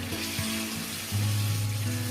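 Tap water running for rinsing the face during an at-home facial, a steady hissing splash close by with a low hum that shifts as the flow changes.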